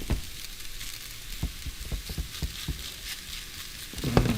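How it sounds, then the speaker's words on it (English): Food fries in a hot pan with a soft, crackling sizzle, scattered pops over a steady hiss, fairly close and quiet, with a louder clatter at the end. "Listen to that sizzle."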